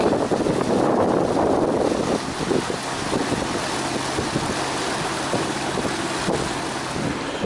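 A motor boat engine roars at full throttle on Breydon Water, Norfolk Broads, loud and continuous, mixed with heavy wind buffeting and rushing water, with no voices.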